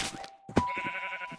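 Sheep bleating close by, one short clear bleat after a brief quieter call, with little else around it.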